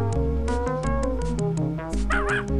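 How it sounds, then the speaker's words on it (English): A cartoon dog barks and yips in the Putt-Putt Goes to the Moon video game, a quick series of close, bright barks layered over game music with a warbling effect near the end. "Now Pep just barks in there."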